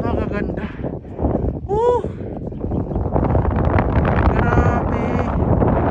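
Cold wind gusts across the microphone at a campsite viewpoint in Mabini, Bohol, a loud continuous rumbling buffet that runs throughout while people talk over it.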